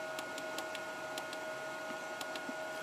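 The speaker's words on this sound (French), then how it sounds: "Là j'entends le ventilo tourner un peu plus fort" A cooling fan hums steadily in a solar Arduino dimmer setup as it spins up under more load, a constant tonal whir with faint repeated ticking clicks on top, fairly quiet and with no one talking.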